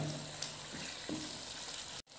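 Date pickle bubbles and sizzles in a pan as it is stirred, a steady close frying hiss with a few soft scraping strokes, cutting off abruptly near the end.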